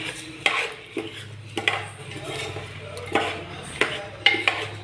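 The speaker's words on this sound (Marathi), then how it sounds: "ह्याला थोडं असं हलवून घेऊयात. मस्तपैकी सगळं मसाला मिक्स झाला पाहिजे." A spoon scrapes and clinks through rice and masala in a pan while Maharashtrian khichdi is being made, giving repeated sharp metallic scrapes in an uneven rhythm over a low steady background hum.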